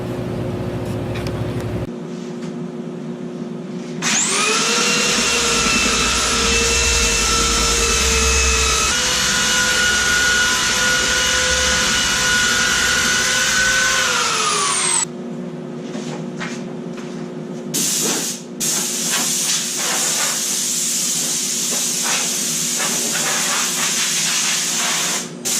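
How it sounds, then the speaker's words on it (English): A belt sander runs steadily for about eleven seconds, a loud, even motor whine with a droning hum, as it strips old wood veneer off a secretary desk. Scraping and handling noises follow once the motor stops. "I'm going to get the belt sander back out, and we're going to take the veneer all the way off"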